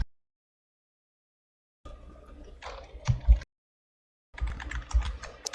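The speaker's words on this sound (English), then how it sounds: "go to start and run and type in this Prefetch." Keys on a computer keyboard clatter in two short close bursts of typing, separated by silence, each a quick run of light taps with a few louder strikes.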